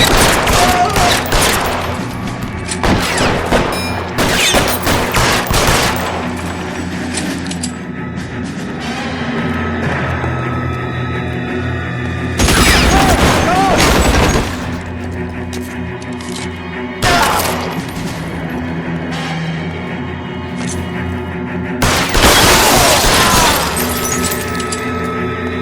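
Gunfire rings out in the video game L.A. Noire, with dense volleys of loud, sharp shots in repeated bursts and some breaking-glass crashes, close and heavy, with short lulls between the barrages.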